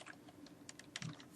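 Quiet, close computer keyboard typing, a quick uneven run of soft key clicks with no talk.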